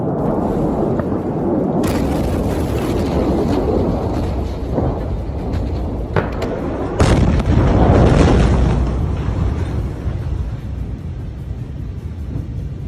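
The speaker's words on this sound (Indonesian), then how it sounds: "Dentuman dahsyat di gudang senjata terbesar Ukraina." Booming blasts from explosions and fire at Ukraine's largest arms depot in Kalinovka, Vinnytsia region: a steady low roar with several sharp bangs around the middle, the loudest and longest burst coming later, all continuous and distant-sounding with no talk.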